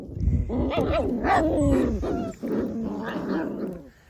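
Doodle puppies yipping, whining and making small growly barks in a busy, overlapping cluster, close and moderately loud throughout.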